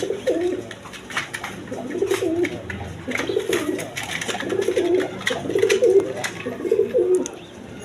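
Several colored-breed pigeons, including red Lal Gola birds, coo close by in a repeated rhythmic series of soft, throaty calls that rise and fall every second or so, clear and fairly loud.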